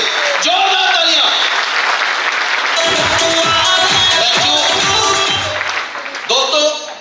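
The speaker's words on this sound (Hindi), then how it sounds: "दोस्तों जोरदार तालियां चाहिए, जोरदार तालियां।" Loud, sustained applause from an audience at a welcome event, a dense continuous roar of clapping with a voice speaking over the start and end.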